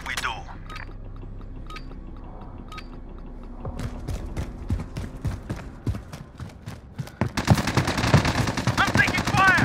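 Gunfire in the video game Call of Duty Modern Warfare: scattered sharp shots early, then rapid automatic bursts growing denser and louder near the end, with voices talking over parts of it.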